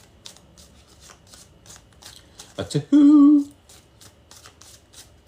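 A deck of cards is shuffled with a brief rapid riffling burst, preceded by soft handling taps and a short spoken word, all close and fairly loud.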